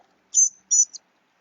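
A white-throated sparrow held in the hand for banding gives two or three thin, high chips, close and clear against near silence.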